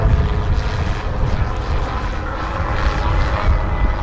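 A light spotter aircraft's propeller engine drones steadily and loudly at an air show, a continuous near rumble with no talk over it.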